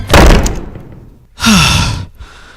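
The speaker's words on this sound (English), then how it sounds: "Shut the door." A door pushed shut nearby with a loud, close thud, followed moments later by a breathy rushing swell.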